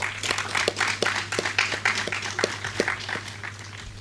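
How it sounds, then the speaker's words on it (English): An audience at a faculty of medical sciences student awards ceremony applauds in scattered, distinct claps, a moderately loud and uneven patter over a steady low hum. "Applaud yourselves."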